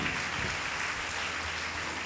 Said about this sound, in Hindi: ताली बजा के परमेश्वर को धन्यवाद दे।